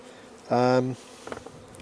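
A honey bee buzzes close past at a hive on a farm, one loud droning pass lasting under half a second, followed by fainter scattered buzzing and hive hum in the background.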